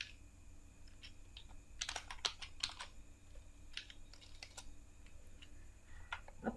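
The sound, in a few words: typing HTML table code on a computer keyboard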